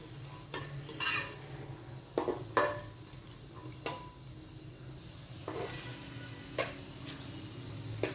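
Spices and peas being stirred and roasted in a pot for masala pulao, with a soft steady sizzle under intermittent spoon scrapes and clinks against the metal, fairly quiet and close.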